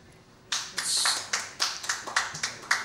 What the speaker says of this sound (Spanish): Aplaudan, chicas, si les gusta que los hombres sean así.